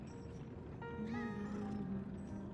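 In the video game Lies of P, a cat being petted lets out a single drawn-out meow, clear and fairly close over a low background hum.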